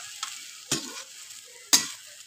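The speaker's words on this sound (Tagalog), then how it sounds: "Haluin po muna natin para makita natin kung maganda at pantay yung pagkakaluto." Buttered shrimp are stirred in a pan with a spoon: a soft constant sizzle sits beneath three crisp scraping strokes, the last the loudest, with no voices.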